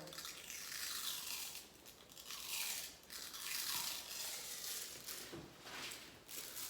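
A Clubman charcoal face mask is slowly peeled off skin, starting from one corner, giving a close, continuous crackling and tearing sound that swells and fades in waves without any speech.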